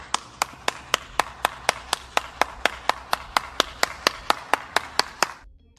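Steady, evenly spaced hand claps, about twenty sharp distinct strikes at a regular rhythm, close and fairly loud, stopping abruptly near the end.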